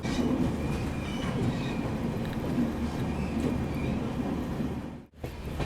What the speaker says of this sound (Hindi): यहाँ पे ये ट्रेन 2 मिनट का हॉल्ट लेती है।